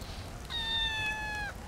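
A cat gives a single drawn-out meow lasting about a second, clear and close against a quiet indoor background.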